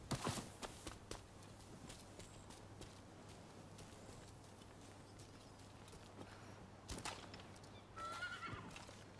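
A horse neighs and snorts amid clip-clopping hooves and scattered thuds, with a louder whinny near the end, in the video game Rise of the Ronin.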